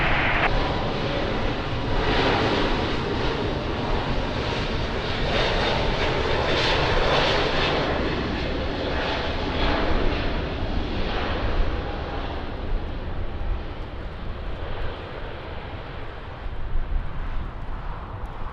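A fixed-wing airliner on approach to runway 20 at Lisbon Airport roars steadily overhead, loud and close, its engine noise slowly fading toward the end.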